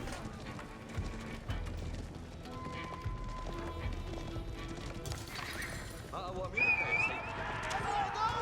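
Horsemen galloping in Age of Empires IV, rapid clip-clop hoofbeats with occasional whinnies, loud and continuous under a commentator's voice amid battle noise.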